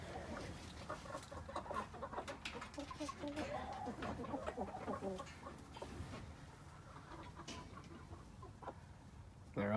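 Chickens huddled together in a coop in winter give soft, scattered clucks and murmurs that overlap in irregular bursts, close by but quiet, with no speech.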